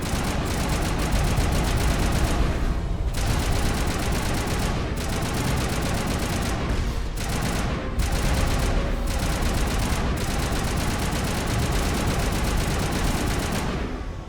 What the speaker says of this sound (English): I love Rex with his shotgun.